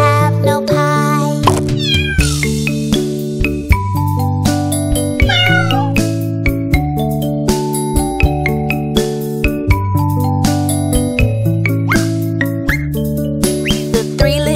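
A voice imitates kitten meows in a children's nursery rhyme, singing a string of loud, clear, drawn-out mews over bright backing music with chiming accents.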